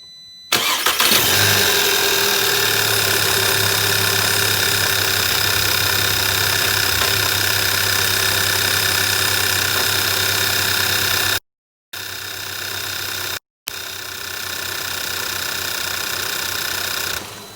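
A 2.0-liter turbo VW GLI (Mk6) fires up with a brief cranking burst, then settles into a steady, close idle that holds for most of the stretch, with two short dropouts near the end and no talking.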